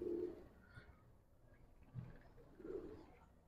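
A pigeon gives a few soft, low cooing calls close by, spaced with short quiet gaps between them.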